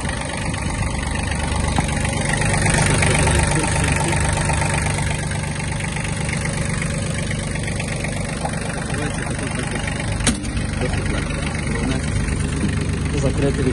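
The small diesel engine of a Kubota B1-17 Japanese mini tractor idles steadily at close range, a continuous low rumble with a rhythmic knock, and a brief click near the end.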